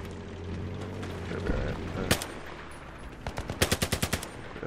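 Automatic rifle fire in the video game Battlefield 3: after scattered single shots and one sharp crack, a rapid close burst of about eight evenly spaced rounds rings out over busy game ambience, with some talk in the background.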